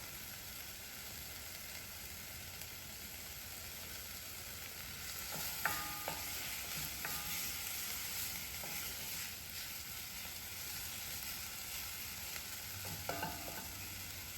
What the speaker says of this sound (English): I'm going to let that saute for a couple minutes.